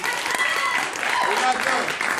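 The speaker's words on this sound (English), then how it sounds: "Give this man a round of applause." A round of applause from a group at an empowerment event, dense clapping with some cheering voices mixed in, continuous across the short stretch.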